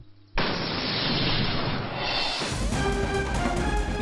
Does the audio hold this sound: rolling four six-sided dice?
no